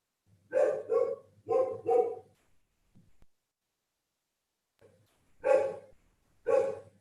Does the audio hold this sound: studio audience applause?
no